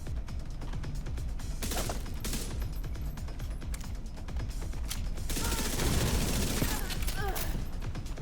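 SMG fire from an exotic submachine gun in The Division 2 video game. Continuous rattling bursts with mechanical clicks and clatter run throughout, growing slightly denser and louder toward the end.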